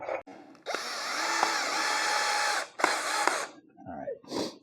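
Close, loud bursts from a power drill driving screws into a travel trailer floor frame, two long runs of steady whirring separated by brief pauses and ending in short ratcheting spurts, with no talk over it.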